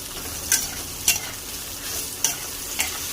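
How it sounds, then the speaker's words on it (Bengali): Onions frying in a pan for a potato and soybean biryani, with a steady sizzle and four sharp scraping stirs spaced through the clip, close and fairly loud. "এবার পেঁয়াজ ভালো করে লাল করে ভেজে নেব।"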